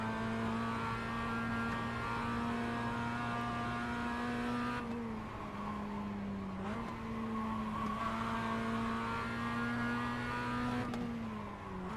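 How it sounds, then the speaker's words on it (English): A Mazda MX5 engine in iRacing holds a steady, droning high-rev tone with gear changes and bouncing against the rev limiter, close and loud throughout with no talk. "because it's hitting the rev limiter"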